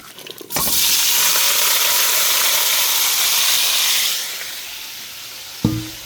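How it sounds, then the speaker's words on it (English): Celery and onions land in a hot pan with a sudden burst of loud, hissing sizzle that holds steady for several seconds, then eases and ends with a clunk. "so we're going to start frying the stuff. Got our celery and onions here."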